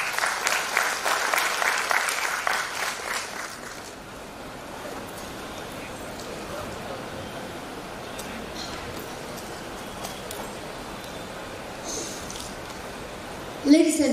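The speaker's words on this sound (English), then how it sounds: "I request all of you to give huge round of applause for their commendable act." An audience at a music concert in a town hall claps steadily in a dense, continuous wash of applause that swells at first, then settles into sustained clapping from many hands.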